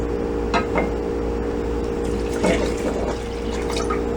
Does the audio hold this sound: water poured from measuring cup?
yes